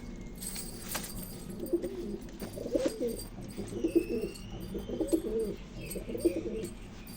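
Pigeons in a loft give repeated low, soft coos in a regular rhythm of roughly one phrase per second, close by and fairly quiet, with no talking.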